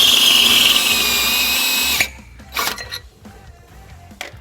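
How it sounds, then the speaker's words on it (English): Power drill enlarging the rear hole of a trailer hitch canister to 7/16 inch on a 2016 Hyundai Elantra GT, a loud steady whine for two seconds, then stopping, followed by a few metallic clinks and handling noises. "we're going to enlarge the rear hole in our canister to 7/16"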